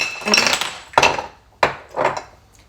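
Glass bottles knocking and clinking against one another on a kitchen counter, four sharp separate strikes with ringing tails and quieter rattles between them, close and distinct with no talking.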